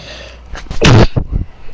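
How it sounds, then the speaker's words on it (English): A single loud, close sneeze, with a short breathy intake and then a sharp burst, in a quiet room. "That was a sneeze"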